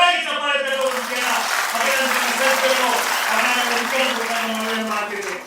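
Loud, sustained applause from a crowd at a BJP political rally in Karnataka fills the whole stretch, with a man's amplified speech carrying over it throughout.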